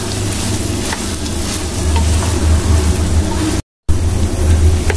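Carrot and potato pieces fry together in a pan, giving a steady, close sizzle with occasional stirring scrapes throughout, briefly cut off by a short gap of silence near the end.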